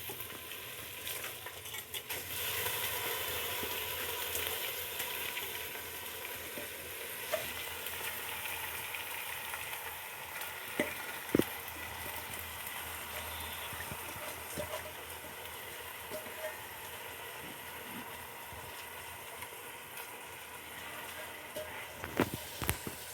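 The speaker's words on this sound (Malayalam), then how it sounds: "അരി ഇട്ടിട്ട് നന്നായിട്ട് ഇളക്കി കൊടുക്കുക." Soaked rice stirred into ghee with spices and onion in a pressure cooker gives a steady soft sizzle with scraping spoon strokes and occasional clicks, with no talk.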